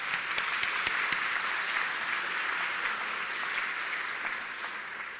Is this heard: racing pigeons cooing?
no